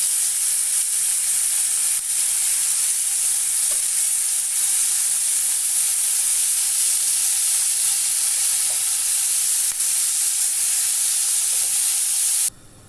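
Pork adobo pieces fry and brown in a pan with a loud, continuous sizzle and occasional faint stirring clinks, then the sound cuts off abruptly at the end.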